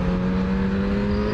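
A 2011 Yamaha XJ6 motorcycle engine drones steadily and close as the bike pulls away, a continuous low hum with a strong, even tone and no speech.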